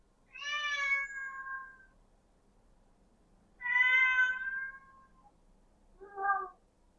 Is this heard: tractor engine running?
no